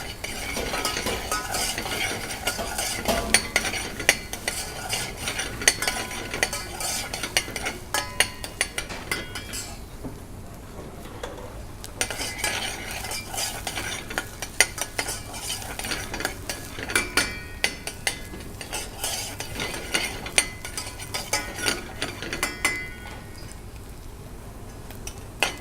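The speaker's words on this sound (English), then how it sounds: "It needs about 5 minutes or so to fry the onions" Onions fry in a pan with a constant low sizzle while a utensil scrapes and clinks against the metal in a busy, rhythmic stirring close up.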